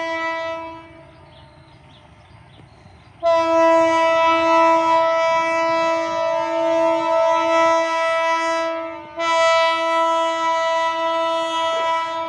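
Horn of the BB203 locomotive blares loud and close at a level crossing during a dynamic test run, a steady multi-tone blast that briefly drops, then resumes strongly, with rumbling train noise underneath.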